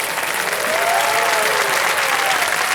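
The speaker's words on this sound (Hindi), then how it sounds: "नाम सुनते ही बहुत सारी तालियां बज गई" A television quiz show audience applauds, a dense wash of clapping from a large crowd that swells slightly and holds steady for a few seconds.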